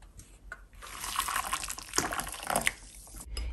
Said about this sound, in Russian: Так, гашу горячей водой.